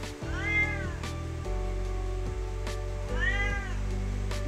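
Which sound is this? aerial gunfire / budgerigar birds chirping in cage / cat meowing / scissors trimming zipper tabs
cat meowing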